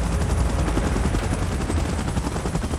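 Helicopter in the PUBG Mobile battle royale game, a steady loud rotor roar with low thumping blade chop, mixed with what may be crackling gunfire throughout.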